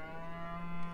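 A cow in the video game Beyond Eyes gives a low, sustained moo lasting about a second, steady and moderately loud with no talk over it.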